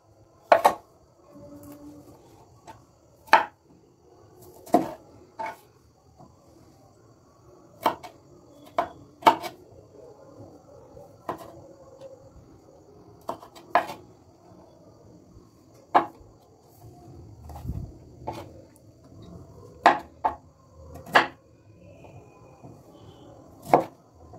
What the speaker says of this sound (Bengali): তো এখানেও আমি মাঝখান থেকে এগুলোকে কেটে দেব।